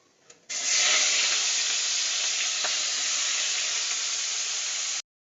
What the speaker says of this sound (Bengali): এবার দিয়ে পেঁয়াজ আলু কাটাটা ভাজবো ভাজার জন্য দিয়ে দেবো